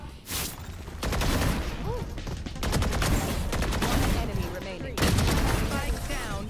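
Heavy automatic gunfire in a Valorant match, dense overlapping bursts of loud, close shots with short breaks, mixed with in-game effects.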